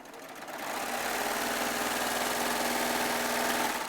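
Baby Lock serger stitching quilting charm squares together, a steady close rapid mechanical hum that starts up and runs continuously.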